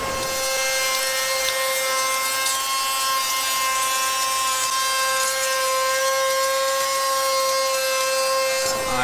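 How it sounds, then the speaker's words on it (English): A router fitted with a half-inch rebating bit cuts along wood with a continuous high-pitched whine and a rough grinding rasp, loud and steady throughout. "To use this rebating bit, and it's a half an inch bit."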